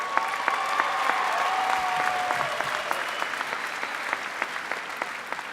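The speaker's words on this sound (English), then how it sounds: "So seniors, would you give all your friends and family who are here today a round of applause," Graduating seniors at a high school graduation ceremony applaud their families in steady, full applause, with a few distinct close claps and a faint tonal whistle or cheer early on.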